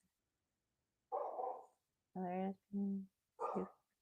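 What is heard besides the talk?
dogs barking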